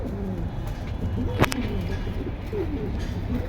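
Male Kalibaga pigeons coo in repeated throaty rolls close by, with a brief sharp chirp partway through, amid a busy low background and no clear talk.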